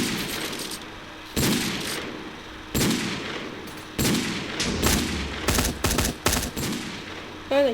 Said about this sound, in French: C'est la M4A4, je m'en doutais.